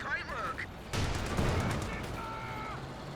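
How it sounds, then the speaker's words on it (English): In Company of Heroes 2, a Panzer tank fires a heavy shot at a Cromwell, a sudden loud boom that rolls into a rumbling, crackling battle din, with brief tonal game sounds before and after. "Panzer does connect on the Cromwell."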